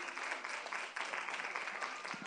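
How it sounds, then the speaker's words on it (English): Church congregation clapping together in praise, a fairly quiet but continuous wash of many hands with faint voices mixed in, heard from a distance. "Come on, let's give God a hand clap of praise."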